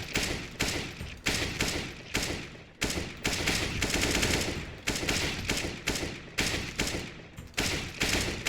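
Rapid bursts of gunfire in Valorant while aiming for headshots, loud and close, with sharp repeated shots in short volleys separated by brief pauses across the whole stretch.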